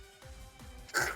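A single short sneeze bursts out near the end, sharp and moderately close, after a stretch of quiet room noise.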